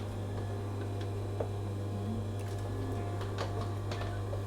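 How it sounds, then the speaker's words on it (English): An overlocker sews a curved seam across the top of a sun cape hood, with a steady low motor hum under a faint, rapid ticking of the stitching mechanism. "we're overlocking that curved seam across the top of the hood, which I just stitched"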